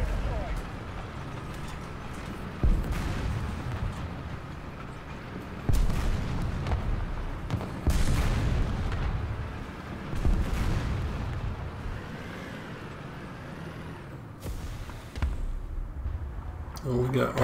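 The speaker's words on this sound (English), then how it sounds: "Oh, we got artillery fire coming in." Artillery shells in the War Thunder tank game thud and rumble in repeated heavy impacts over a steady engine-like drone, with someone talking throughout.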